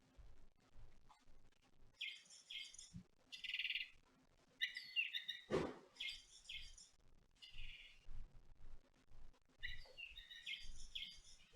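Bursts of shrill electronic bird chirping repeat in short trills separated by pauses, close and fairly loud, with a single sharp knock midway.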